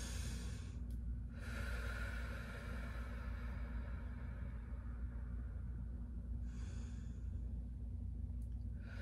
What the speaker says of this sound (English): We wanna stay here and do some nice deep breaths.